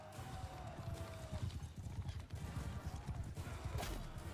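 Horse hooves clip-clopping in Mount & Blade II: Bannerlord, a steady rapid beat of galloping hits close by with faint battle noise and a brief whinny-like tone.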